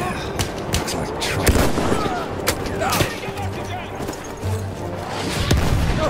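Battlefield 1 combat gunfire cracks in irregular bursts of sharp shots and distant booms over a busy battlefield din, with a voice talking faintly beneath the action.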